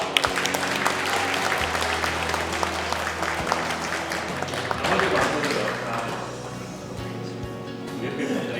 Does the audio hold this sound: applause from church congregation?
yes